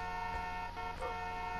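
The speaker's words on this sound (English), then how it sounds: "He's honking at me." A car horn honks in a steady sustained blare under continuous engine and road noise, near and loud, with a couple of brief swells, in a car stuck on rocks.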